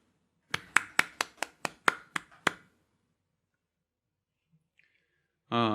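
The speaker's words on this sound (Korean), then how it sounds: "우리 하나님께 영광의 박수 올리겠습니다." Church congregation during a Sunday service giving a short burst of applause, about nine crisp, evenly spaced rhythmic claps in unison, then near silence and a voice starting at the end.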